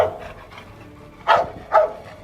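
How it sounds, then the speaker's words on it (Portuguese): A search and rescue dog barks after finding a victim: two loud, sharp barks near the end, following a stretch of quieter whimpering and breathing. "sendo orientado pelo condutor Fernando, ele localiza a vítima e ele começa a indicar para a gente que localizou algo diferente e começa a latir"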